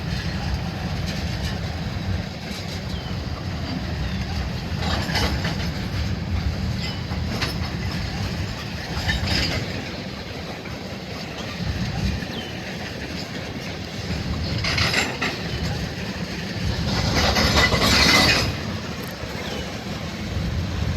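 Heavy, loaded Canadian National freight cars roll past at about 20 to 25 mph in a rail yard, a low continuous rumble with faint clatter and occasional brighter metallic squeals rising in the middle distance.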